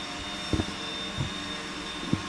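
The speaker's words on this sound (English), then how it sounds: "Yeah, the vacuum is right below me." A vacuum cleaner runs on the floor below, heard as a muffled, steady motor drone with a faint whine. A few soft thumps break through it, and no one speaks.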